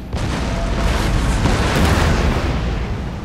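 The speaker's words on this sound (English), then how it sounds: "while the enemy artillery pounds away at my men" Dense, continuous rumbling barrage of artillery fire in a Napoleon: Total War online battle, with overlapping booms and cannon blasts filling the whole stretch at steady loudness and no voices.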